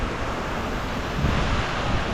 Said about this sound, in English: That wind's coming from that direction.